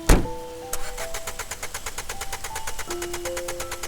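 A taxi engine in the rain cranks over and over without catching, a fast repetitive starter whir after an initial thud, with high electronic tones from the dashboard, close and fairly loud.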